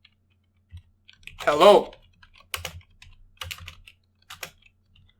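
Computer keyboard keys tapped in short irregular bursts while Python code is entered, close and fairly clear, with a brief spoken word partway through.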